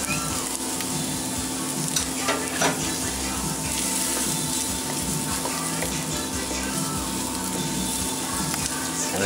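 Butter sizzling in a pan with roasted potatoes and bacon fat, a steady dense crackle and hiss held at an even level throughout, close and loud with a few brief pops.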